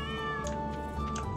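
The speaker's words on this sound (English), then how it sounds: "Where's my kitty? There you are." A cat meows in the Stardew Valley farming game, two short clear meows close together over a steady game music bed, with no talking.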